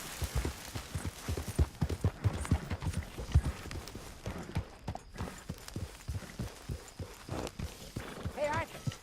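Horse hooves clop steadily on the ground in the video game Red Dead Redemption 2, a rhythmic, fairly close walking gait under occasional talk, with a brief neigh near the end.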